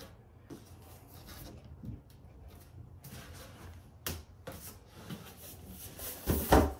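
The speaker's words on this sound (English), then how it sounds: "push down until you hear that kind of clunk." An IKEA Idanäs drawer is pushed down until it clunks into place: quiet rubbing and a few small knocks, then a louder thud near the end, all faint and close.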